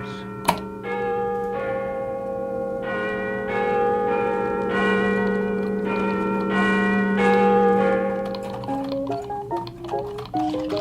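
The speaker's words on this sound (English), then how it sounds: "A famous clock in London has a great bell called Big Ben to tell the hours." Big Ben, the great clock bell in London, rings out repeated deep, resonant strikes with long overlapping hum, steady and loud, the tones lingering before fading near the end.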